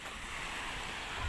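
Sea waves at a beach resort in Proper Tigisan, Oriental Mindoro, heard as a steady broadband wash of surf with some wind noise on the microphone, continuous and fairly faint, with no voices.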